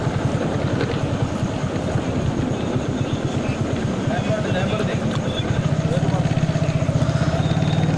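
A motorcycle rides along the NH65 highway near Hyderabad in the early morning, its engine droning steadily and loudly with a pulsing rhythm, wind and road noise mixed in throughout.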